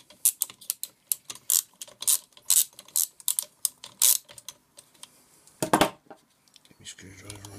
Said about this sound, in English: So undo this bolt.